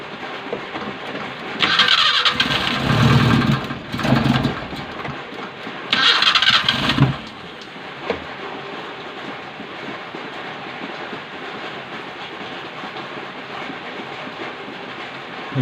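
A Suzuki Gypsy with an F10A engine cranks over twice in loud bursts from a starter motor, then a steady low engine rumble carries on, heard close up.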